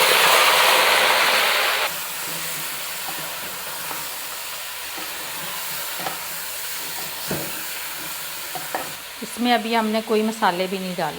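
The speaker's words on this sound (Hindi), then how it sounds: "और इसको हम अभी घी में फ्राई करते हैं" Chicken fries in ghee in a pot with a loud hissing sizzle at first that settles into a quieter crackle with occasional stirring knocks, while someone talks near the end.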